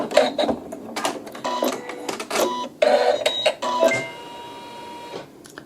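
Home sewing machine stitching a short match point on a quilt seam, a close, brief mechanical run of rapid stitching in uneven bursts with small clicks, no voices.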